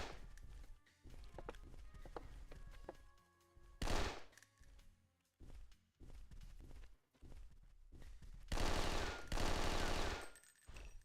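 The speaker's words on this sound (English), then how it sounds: "Maybe I can just shoot the computer." Bursts of automatic gunfire aimed at computer monitors in James Bond 007: Nightfire on PC, sounding in several loud volleys with brief pauses and clattering impacts between them.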